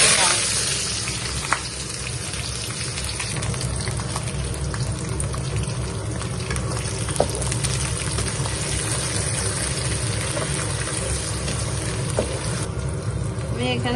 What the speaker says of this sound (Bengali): জিরা দিয়ে দিলাম, দিয়ে দিচ্ছি দারচিনি, এলাচ, লবঙ্গ